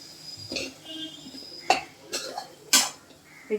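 Gram flour batter is mixed in a bowl to coat green chillies, giving a few scattered clinks and scrapes of a utensil against the bowl separated by quiet gaps.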